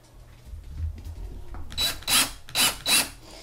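Screws driven into a quarter- to half-inch PVC panel of a gecko enclosure: a low rumble, then four short, loud, rasping bursts in quick succession, close by.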